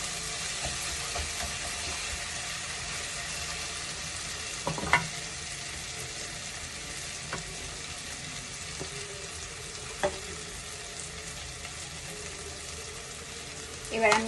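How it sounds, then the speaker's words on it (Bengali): Masala spice paste fries steadily in a pan while palak paneer is being cooked, a constant hissing sizzle with a few sharp clinks of a stirring spoon scattered through it. "মশলাটা প্রায় ভাজা হয়েই গেছে।"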